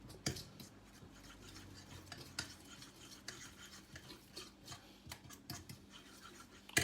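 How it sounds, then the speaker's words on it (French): Caesar salad is tossed with grated parmesan, giving soft, irregular scraping and clinking of utensils in a bowl, quiet and close, with a few sharper taps and no talking. "On mélange."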